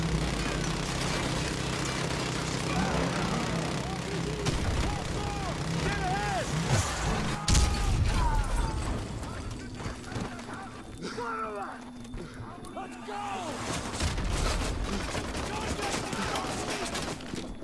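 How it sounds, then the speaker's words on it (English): Gunfire in the Call of Duty Modern Warfare 2 campaign, remastered, Veteran difficulty: dense, overlapping bursts of shots and game noise run throughout at steady loudness, with a heavier blast near the middle and voices mixed in. "Wait, I'm trying to shoot you."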